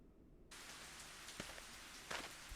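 Steady rain in the video game Higurashi When They Cry sets in abruptly after a short quiet moment, a soft hiss with a few brighter drop or splash accents scattered through it.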